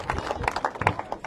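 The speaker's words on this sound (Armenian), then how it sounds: "Ես կարծում եմ, ես էլ լավ առիթ, որ մենք ծափահարենք։" An audience claps in a brief burst of applause, scattered hand claps close by, with a voice murmuring underneath.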